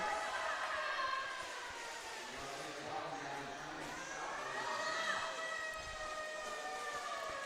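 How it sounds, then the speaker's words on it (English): A rising and falling hand-crank tornado siren wails over crowd noise and chatter at a roller derby bout, the tone sweeping steadily through the whole stretch. "It's like a hand crank siren."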